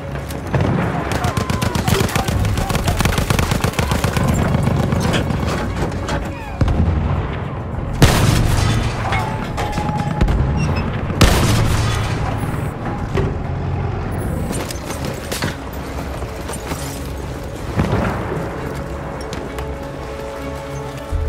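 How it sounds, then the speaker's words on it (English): An enemy artillery barrage rumbles through a Battlefield 1 match, with heavy booms, rattling gunfire and blasts layered into a dense, loud battlefield din, while a voice is briefly heard. "Wait for the enemy artillery barrage to stop firing."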